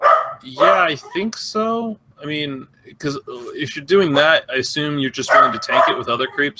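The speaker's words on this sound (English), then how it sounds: "So apologies for my dog barking." A pet dog barks and yips in the background while people talk steadily over it during a video game discussion.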